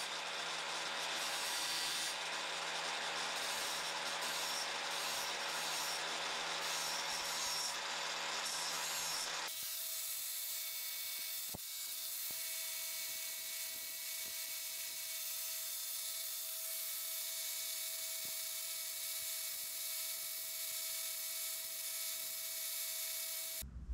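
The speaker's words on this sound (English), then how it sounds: "Once done, get the grinder out and get back to polishing." An angle grinder polishes a stainless steel grille, giving a steady, loud abrasive whine with a constant high tone after an early stretch of rougher, louder grinding.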